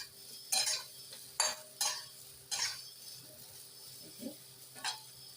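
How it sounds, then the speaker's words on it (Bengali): Cauliflower frying in a pan on a gas stove is stirred in several sharp scraping strokes, spoon clinking against the metal between them, over a low sizzle. "এই যে নেড়ে দিলাম।"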